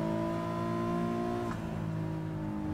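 A race car in GT Sport screams at high revs, a steady loud tonal engine whine that dips briefly as it shifts gear and then carries on, with no talking.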